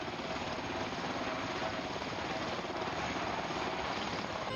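A helicopter drones steadily overhead, its rotor chop and engine roar filling the air without letting up.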